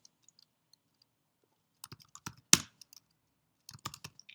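Quiet computer keyboard typing while entering a router host name: sparse, scattered key clicks, mostly in two short bursts, close and faint with no speech.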